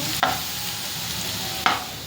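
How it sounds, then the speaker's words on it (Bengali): Continuous close sizzle of potatoes frying with spices in a pan, broken by two sharp scraping stirs of a spoon, with no voices. "মশলা দিয়ে আলু ভাজা হচ্ছে"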